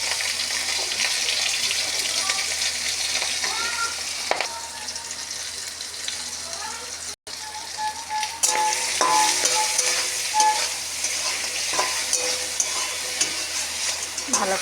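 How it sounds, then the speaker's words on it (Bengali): Crabs fry and sizzle in hot oil in a wok with bay leaf and cumin, a steady loud crackle running throughout with scraping stirring strokes and a brief break midway. "ভালো করে ভেজে নেব"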